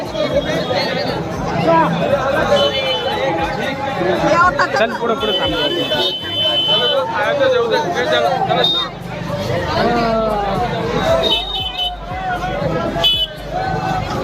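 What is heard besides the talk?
crowd of pilgrims at Kashi temple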